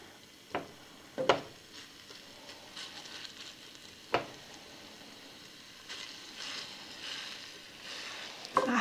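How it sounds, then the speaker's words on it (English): Ingredients for a Mexican cheese soup sizzle softly and steadily in a pot, with a few sharp clinks and knocks from stirring scattered over the faint hiss. "Now it's getting some sizzle to it."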